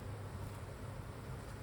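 Honey bees in an overcrowded hive make a dense, continuous buzz that holds steady and fairly faint throughout, close up and with no voices.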